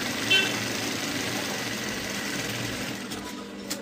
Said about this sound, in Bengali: এখানে আমি ধরে একটা চাপ সেলাই দিলাম